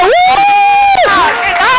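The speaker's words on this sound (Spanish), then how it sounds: "Ay, gracias por este aplauso tan espontáneo, salido del corazón" An audience at a Science Week café-style science event on the UPV Alcoy campus gives a loud burst of cheering and shouting, with a prominent voice ringing over the crowd for under two seconds.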